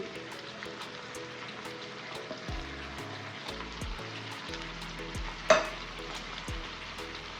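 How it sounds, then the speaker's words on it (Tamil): Salt, coriander, curry leaves and mint are stirred in a hot pan, giving a soft continuous sizzle with occasional spoon scrapes and one sharp clink, under a low background hum. "எல்லாத்தையும் சேர்த்து நல்லா மிக்ஸ் பண்ணி விட்டு வேக விட்டுருவோம்"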